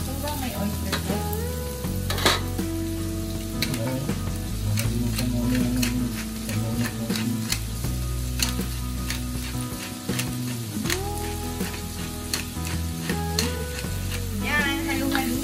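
Chopsuey vegetables, young corn and broccoli with pepper and oyster sauce, sizzle loudly in a hot pan while being stirred, with repeated scraping and clinking of the utensil against the pan throughout.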